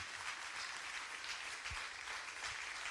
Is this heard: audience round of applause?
yes